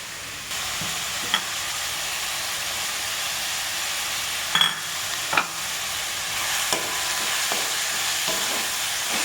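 Garlic and white chilies fry steadily in a pan with a constant bright sizzle, broken by a few sharp clicks and scrapes of stirring. No one speaks.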